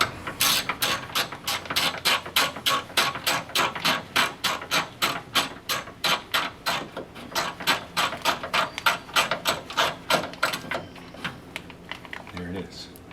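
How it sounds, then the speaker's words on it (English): A socket wrench ratchets rapidly and steadily, removing a window regulator bolt inside the door of a 2006 Scion xB. Loud, close clicking continues for about ten seconds and then slows and fades. "So I put my socket on it and just start taking that out."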